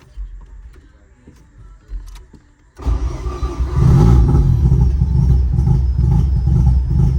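Mazda RX7 FC3S engine cranks briefly after a quiet stretch, then catches and settles into a loud, steady running rumble while tuned on the rich side.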